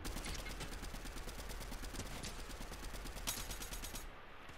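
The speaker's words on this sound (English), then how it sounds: "Oh, they were shooting." Rapid gunfire from a video game battle, dense repeated shots like a machine gun fusillade at steady volume throughout, with a few sharper reports standing out before the sound drops away at the end.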